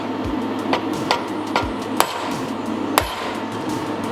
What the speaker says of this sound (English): I might even use a cold chisel and do an actual groove in there.